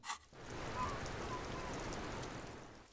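Rain ambience in the video game Disco Elysium, a steady, even hiss of falling rain that starts after a short thump and holds level to the end.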